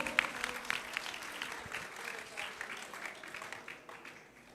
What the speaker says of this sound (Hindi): जोरदार तालियां इन बच्चों के सम्मान में एक बार